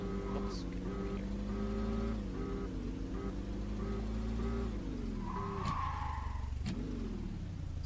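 Brickline family SUV in a driving video game, engine droning steadily with pitch sweeps as it slows, then a sharp tire squeal of braking and skidding near the end, loud and close.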